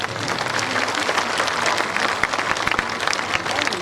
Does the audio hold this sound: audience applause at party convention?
yes